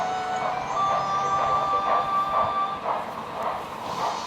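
Freight wagons being shunted behind a locomotive in falling snow, a continuous rumbling roll with squealing, whistle-like metallic tones and hiss, fairly loud and close, with no voices.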